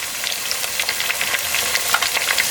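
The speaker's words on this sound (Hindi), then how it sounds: "ये अब आपने इसको तब तक भूनना है जब तक प्याज का कलर गोल्डन नहीं हो जाता और ये चिकन अच्छी तरह फ्राई नहीं हो जाता" Chicken and onions fry in oil with a dense, close crackling sizzle full of small popping spits, steady and moderately loud throughout.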